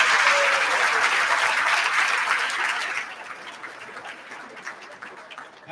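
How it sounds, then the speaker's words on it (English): Loud audience applause for award winners at a teachers' awards ceremony, dense clapping that holds strong for a few seconds, then thins and fades into scattered claps. "let's give all those winners a big round of applause again."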